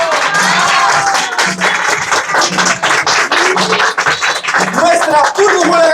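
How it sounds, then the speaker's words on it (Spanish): A crowd at a magic show applauds the night's performers with loud, sustained clapping and some cheering, while voices carry through the applause. "Les pedimos el favor que reciban con un fuerte aplauso a los artistas de esta noche."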